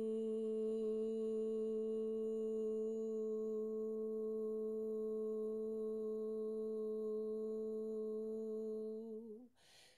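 A steady meditation tone holds for about nine seconds as a smooth, unwavering hum with rich overtones, heard alone without voices, then cuts off abruptly just before the end.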